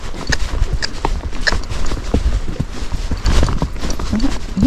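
A Standardbred horse walks uphill along a wooded trail with roots sticking out. Its hooves clop in a steady, close, fairly loud rhythm, with occasional scuffs over the uneven ground.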